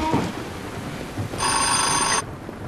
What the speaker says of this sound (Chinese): 赶紧接电话，赶紧接电话！